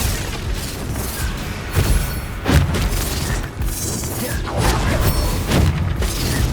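Glacius ice spell cast during combat in Hogwarts Legacy, a string of loud booming bursts and crackling impacts layered over a dense, continuous battle din.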